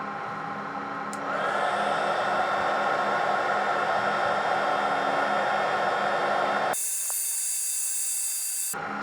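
Heat gun blowing a loud steady hiss while shrinking heat shrink tubing on an engine bay wiring harness, then cutting off abruptly into a brief high whine.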